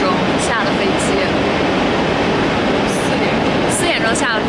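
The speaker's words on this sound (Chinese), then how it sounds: "我们现在在那个巴塞罗那的火车站" Barcelona train station ambience: a loud, constant rumble of rail traffic and hall noise, with brief high squeals and faint voices in the background.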